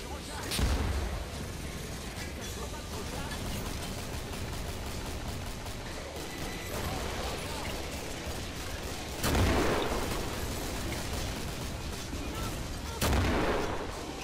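Heavy weapon fire in the video game Killing Floor: three booming blasts ring out, spaced several seconds apart, over continuous rapid gunfire and game noise while someone talks.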